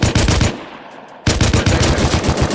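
Automatic rifle fire in the survival video game Rust, loud rapid bursts of close shots, a short spray, a brief pause, then another sustained burst with no talking.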